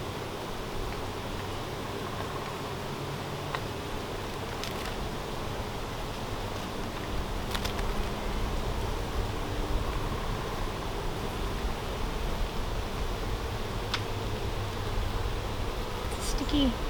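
Honeybees buzz with a steady, close drone during a beehive inspection, with soft rustling and occasional clicks underneath.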